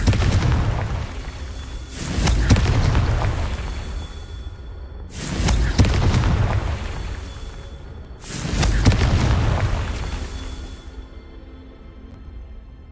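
Three heavy fiery blasts from the Confringo spell in the video game Hogwarts Legacy, each a loud boom with a whooshing burst that swells and fades over a few seconds, spaced evenly apart with no talk.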